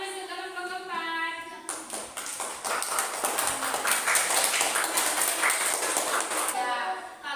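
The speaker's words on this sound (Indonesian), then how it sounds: "tepuk tangan untuk kelompok keempat" A classroom of students applauds the fourth group with a few seconds of brisk, fairly close clapping, and a teacher's voice speaks before and after it.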